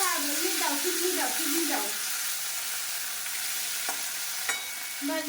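Red amaranth greens fry in a pan with black cumin and dried chilli while being stirred, giving a steady close sizzle with repeated scraping strokes and a few sharp clinks, with a faint voice in the first couple of seconds.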